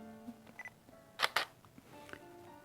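A camera shutter fires once with a quick double click, close and sharp, set at f2.8 and ISO 100 with a slow 1/10-second exposure, amid faint small handling noises.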